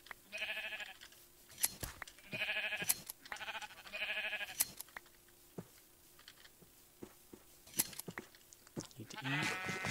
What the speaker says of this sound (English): there's some sheep here